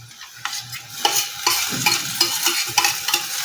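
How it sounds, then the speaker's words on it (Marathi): Tomatoes tossed into hot oil over softened onion, stirred with a spoon that scrapes and knocks against the pan, a continuous close sizzle broken by repeated stirring strokes, no talking. "आता आपण ह्याच्यावर टोमॅटो टाकून द्यायचा आहे"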